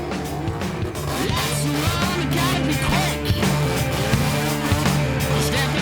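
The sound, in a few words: Mazda 808 with 13B peripheral port rotary engine driving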